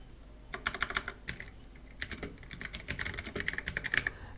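Command-line text typed on a computer keyboard, quick irregular bursts of crisp key clicks with short pauses between, close and fairly quiet, with no talk.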